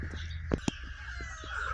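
Chickens cluck and squawk faintly at close range in a village barn on a frosty morning, with a couple of short sharp knocks among the calls and a low steady background hum.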